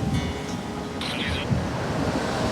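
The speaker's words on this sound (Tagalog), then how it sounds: "Maganda yung hangin na nagmumula po sa dagat." Sea breeze at the coast blows as a steady, rushing wind noise against the microphone, with a surf-like wash underneath and a brief higher tone partway through.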